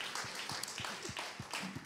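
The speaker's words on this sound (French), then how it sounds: "Vous pouvez vous applaudir" Audience applause at an official launch event, a sparse, faint patter of hand claps with irregular rhythm, heard from a distance.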